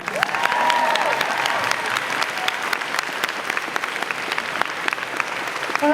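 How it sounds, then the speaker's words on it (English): Audience applause at a convention panel, a dense crowd clapping loudly and steadily for about six seconds and fading a little toward the end, with some faint cheering. "Give Joe a round of applause."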